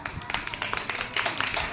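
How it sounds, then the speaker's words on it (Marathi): Children in a classroom clap together in a brief burst of quick, uneven claps, close by, with voices mixed in. "टाळ्या वाजवा."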